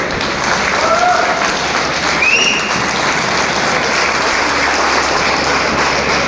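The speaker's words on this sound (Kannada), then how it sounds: "ಎದ್ದು ನಿಂತು ಚಪ್ಪಾಳೆ ತಪ್ಪೋದರ ಮೂಲಕ ಅವ್ರಿಗೆ ಅಭಿನಂದಿಸೋಣ" Sustained applause from a large audience at a school felicitation event, steady and dense throughout, with a few faint whistles rising over the clapping.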